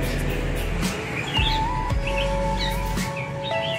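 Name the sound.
tiểu thang songbird singing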